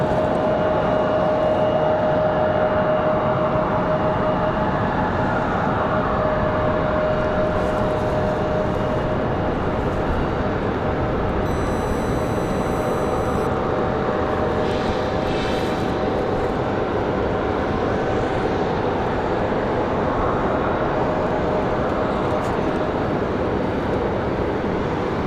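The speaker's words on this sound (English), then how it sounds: "Looks like a Delta CRJ." A Delta CRJ jet taxis at night at Raleigh-Durham airport, its engine roar broad and constant at moderate distance, with a steady high whine throughout and no voices.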